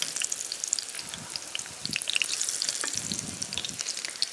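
Chickpea flour vegetable fritters fry in hot oil in a pan, a steady crackling sizzle with dense popping spatters, close and continuous for a few seconds with no talking.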